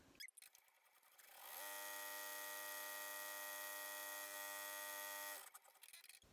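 Embroidery machine stitching a tack-down on fabric in a hoop, a steady high mechanical whir lasting about four seconds with a clear buzzing tone, preceded and followed by soft handling noises.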